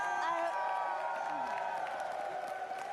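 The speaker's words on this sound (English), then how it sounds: "The crowd behind us is amazing." A large crowd cheers and applauds at the Rainbow Six Salt Lake City Major finals, a steady wash of clapping and whoops under faint speech.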